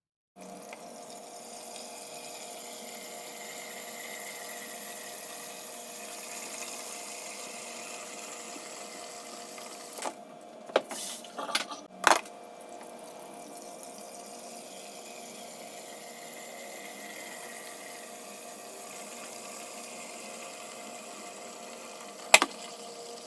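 Water runs steadily from a Samsung refrigerator dispenser through a newly installed filter, a constant moderate hiss for over twenty seconds, broken by a few brief clunks and clicks.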